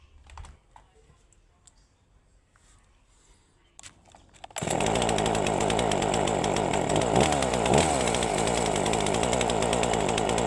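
After a few light clicks and handling noises, an S1700 chainsaw engine with a newly replaced ignition coil starts and roars loudly and steadily up close for the rest of the clip.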